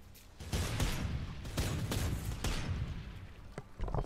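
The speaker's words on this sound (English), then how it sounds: "Oh shit, that's a grenade." Explosions and gunfire bursts in Worms Revolution, several loud broadband blasts at irregular intervals over a continuous rumbling bed of battle noise, with no talk.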